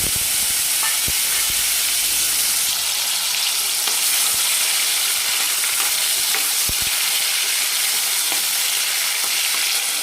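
Mustard seeds, cumin and tomato frying loudly in hot oil for a fenugreek leaf curry, a steady dense sizzle with scattered sharp pops and spatters, close up with no talking.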